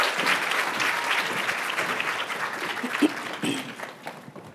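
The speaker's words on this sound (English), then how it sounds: "Let's give them a big round of applause." Audience applause welcoming panelists onto the stage at the Grace Hopper tech conference, a steady wash of clapping from a large crowd that holds for several seconds and then starts to thin toward the end.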